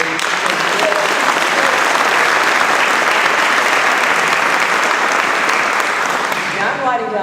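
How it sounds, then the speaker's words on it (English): Sustained audience applause at a leadership forum, steady dense clapping from a large crowd throughout, loud and continuous, tapering slightly at the very end. "Applause, please."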